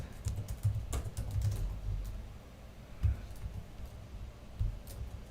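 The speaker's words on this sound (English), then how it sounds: "give me a second as I'm typing" Steady typing on a computer keyboard, a dense continuous rattle of close, fairly loud keystrokes with a few heavier thumps, played alone without speech.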